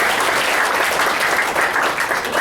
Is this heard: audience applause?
yes